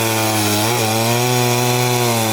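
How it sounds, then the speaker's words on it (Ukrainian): Chainsaw cutting thick firewood for winter, a loud continuous engine drone under load close by, pitch dipping briefly mid-cut. "Пилочка сама ріже."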